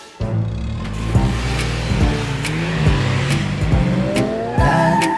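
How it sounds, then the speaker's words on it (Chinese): Animated super cars roar off together, engines revving and rising in pitch while tires squeal sharply, loud and close, with music underneath. "超级汽车， 汽车 出动！"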